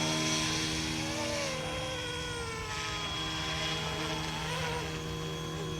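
Wolfbush AW-911 Airwolf RC helicopter flying in low rates, a steady close whine with layered motor and rotor tones holding constant throughout.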